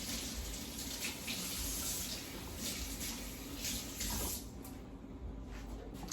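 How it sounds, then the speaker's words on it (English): Garden cabbage leaves are rinsed for sauerkraut under a steady stream of running tap water, a continuous close splashing hiss into a sink with small shifts as the leaves move through the flow. "I'm just going to give them another rinse."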